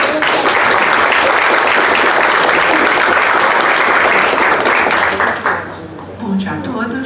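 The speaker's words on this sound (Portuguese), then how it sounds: "Ana de Holanda, aplausos de boas-vindas." Loud, sustained welcoming applause from a crowd at a journal launch event of the Academia Mineira de Letras fills the room, then fades out near the end as a voice begins.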